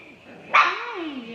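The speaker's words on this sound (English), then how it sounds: "Come on, puppies." Black puppies outdoors give one sharp, close bark followed by high whimpering, while a person talks softly to them.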